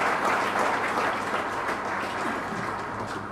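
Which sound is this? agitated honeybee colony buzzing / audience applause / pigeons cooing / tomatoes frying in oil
audience applause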